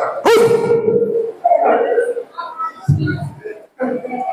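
A voice imitates the low, lazy growl of an old Fila dog, a drawn-out rumble followed by shorter grunts, loud and close, speaking voice in a church service setting.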